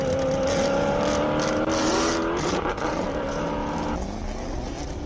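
A Hendricks-powered BMW Z4 hillclimb race car launches hard and struggles for traction at a hillclimb event, its loud engine note climbing and holding near and steady before easing off.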